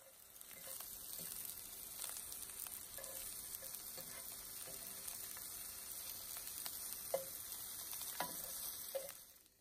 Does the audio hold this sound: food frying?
yes